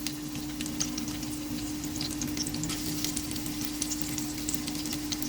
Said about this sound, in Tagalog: Igisa natin ang ating luya. And then, isunod natin ang ating sibuyas.